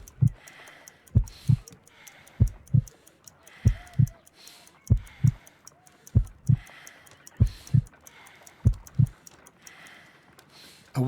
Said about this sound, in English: I need to concentrate and count the heartbeats